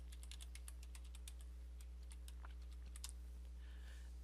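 A computer keyboard rattles with a quick run of key presses as a user ID and password are typed, close and faint over a steady electrical hum, with no talking.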